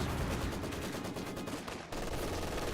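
Maxim machine gun in Company of Heroes 2 firing a dense, continuous burst of rapid shots that briefly dips and then resumes, loud and sustained with no voices over it.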